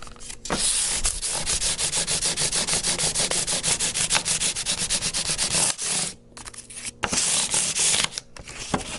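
Sandpaper rubbing back and forth across guitar frets during fret leveling, a fast steady scratchy rasp of repeated strokes, loud and close, with a short pause near the end before the sanding resumes.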